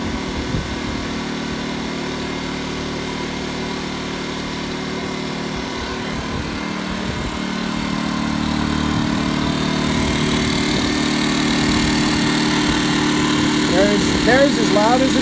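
A Champion 2000-watt inverter generator, model 100565, runs in eco mode at close range, giving a steady engine drone that swells slightly partway through and then holds.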